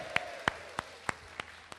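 A few slow, spaced hand claps, about six evenly timed, fairly faint against a quiet room at a leadership seminar, with a faint voice tone lingering underneath.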